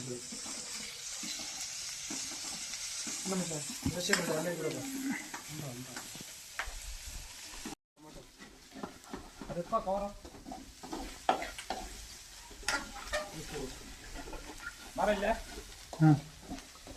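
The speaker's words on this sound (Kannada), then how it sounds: "ಟೊಮೊಟೊ ಹಾಕ್ತಿದ್ದೀನಿ ನೋಡಿ ಬ್ರೋ." Tomatoes go into frying chicken and get stirred, with scraping and sizzling in the pan, a brief break, then more stirring and clatter under faint background voices.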